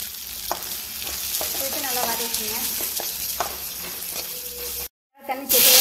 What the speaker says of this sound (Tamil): வதக்கிங்க.